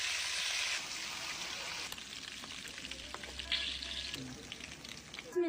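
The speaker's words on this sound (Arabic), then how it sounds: "حمر شويه لحمه بلدي بقى" Local meat browns in a hot pan with a steady bright sizzle and crackle, stirred now and then, close and continuous with a few light clinks.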